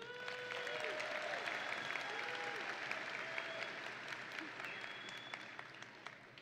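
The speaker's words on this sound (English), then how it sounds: "one more round of applause for our choir." Steady applause from a large graduation audience at a high school ceremony, honoring the school choir, sustained and even throughout, moderately distant with a few faint voices mixed in.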